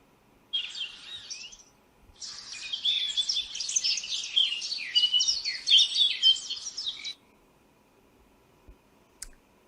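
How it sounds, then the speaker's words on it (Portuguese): Dense, bright bird chirping and twittering, several birds calling at once in a steady burst after a brief opening call, then silence with a faint click at the end. "Esse som foi som de quê? De pássaros."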